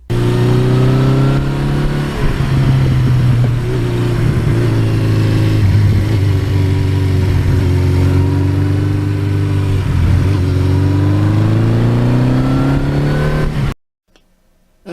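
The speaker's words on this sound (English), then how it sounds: "when I go out on the open road like this, I think about how lucky I am to have bought this bike" A 1982 Suzuki GS1100E motorcycle cruising on an open road gives a loud, close, steady engine drone with slight pitch swells, then cuts off abruptly near the end.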